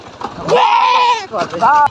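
A goat bleats up close, one long wavering call followed by a shorter one, loud and clear outdoors with a little background noise.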